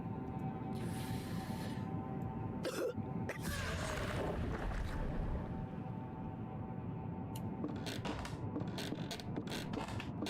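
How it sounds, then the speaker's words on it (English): Several harsh coughs in the horror video game Casting Whispers burst out over a constant low droning background, spaced irregularly, some close and loud, others briefer. "Okay, who's coughing? Where's the coughing coming from?"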